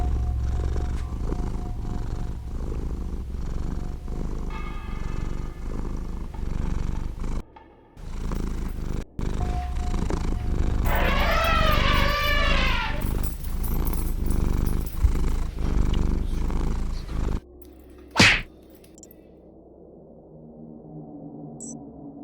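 Cats in the game Honkai: Star Rail purr in a deep, rumbling, continuous drone lasting about fifteen seconds, with a brief warbling, whining cry in the middle and a sharp click near the end, loud and close.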